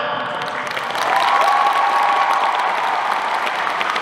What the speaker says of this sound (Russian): Давайте встретим аплодисментами чемпионов Европы, бронзовых призеров чемпионата мира, участников Олимпийских игр